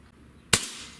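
One sharp, close crack from a Xisico PCP air rifle firing a pellet cuts through quiet room tone, with a short fading tail.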